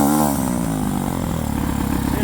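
Rough, uneven idle from a Suzuki DR650 or Honda Hawk 250 motorcycle on a cold late-night run, a steady close mid-pitched chug with irregular clattery pulses that stays loud throughout.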